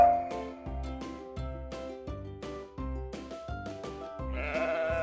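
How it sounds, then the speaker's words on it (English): Farm sheep bleating in a run of repeated, wavering calls, close and clear, one bleat following another steadily over a few seconds. "It's the sheep."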